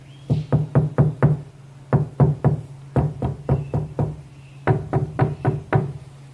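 Firm knuckle knocks on a corked activated-carbon bass absorption unit, in quick bursts of four to six dull, solid raps with short pauses and no rattle, loud and close.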